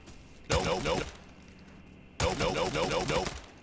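Two bursts of rapid automatic gunfire in the shooter game Arena Breakout, loud and close, each lasting about half a second to a second with a pause between.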